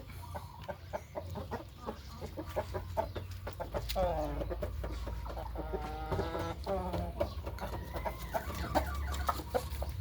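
A Thai breeding rooster clucks repeatedly in short rhythmic bursts, fairly close, with other fowl and farmyard background noise around it.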